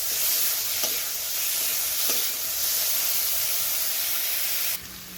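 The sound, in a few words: garlic and ginger frying in a pan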